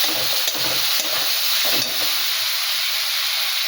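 A soaked spice paste of ginger, garlic, chilli powder and cumin hits a hot pan for a tengra fish curry, bursting into a loud, close sizzle that settles into a steady hiss with stirring.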